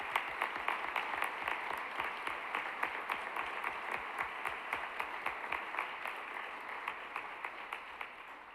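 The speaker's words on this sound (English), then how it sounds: "Join me in giving all of our finalists a round of applause." Sustained audience applause at an honors banquet: a steady, dense patter of many hands clapping for the full stretch, evenly loud and slowly fading toward the end, with no voices over it.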